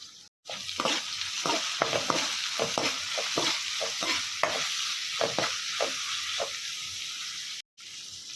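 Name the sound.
curry leaves sizzling as they are added to hot oil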